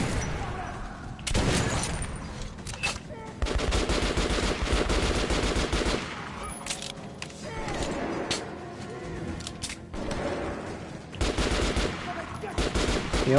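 Bursts of automatic gunfire and single shots in the video game Metro Last Light Redux, loud rapid rattling volleys separated by brief lulls, with bird-like ambient sounds and occasional voices.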